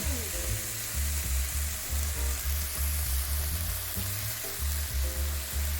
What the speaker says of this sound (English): Stir the onion and the pork together.